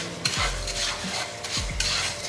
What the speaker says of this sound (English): Just coat everything in butter